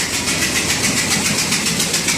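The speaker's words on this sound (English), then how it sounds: "We thought for all the world it was an exhaust leak at one cylinder." Steady ticking, puffing noise from a Ford 5.4 Triton engine with a suspected exhaust leak at one cylinder, a loud rapid rhythmic tapping over the running engine throughout, with no talk.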